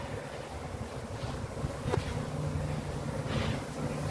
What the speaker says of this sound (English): if I can get the bees off my hive tool